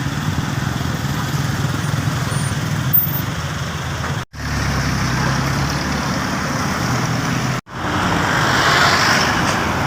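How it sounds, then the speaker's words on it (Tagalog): Heavy road traffic rumbles steadily past a flyover construction site, with big container trucks droning through the low end, broken by two brief dropouts. "Lalaki ang mga container trucks na dumadaan dito."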